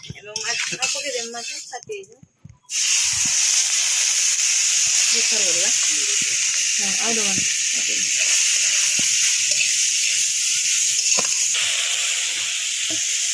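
Prawns fry in hot oil in a kadhai for a shrimp curry. After a few seconds of talk, a loud, steady hiss of sizzling starts abruptly and carries on evenly, with a voice speaking over it now and then.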